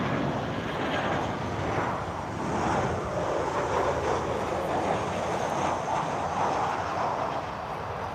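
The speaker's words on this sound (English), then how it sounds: "Yeah, it is a Transavia 737 Boeing." A Transavia Boeing 737 landing at Lisbon Airport gives off a steady, broad jet roar that stays loud and even throughout, with no voices.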